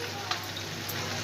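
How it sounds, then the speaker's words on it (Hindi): Garlic sizzling in butter for a tadka while palak paneer is prepared, giving a steady, close frying hiss with a faint crackle throughout. "अब हम तड़के के लिए लहसुन डालेंगे ये मस्के में"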